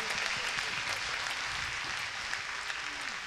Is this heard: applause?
yes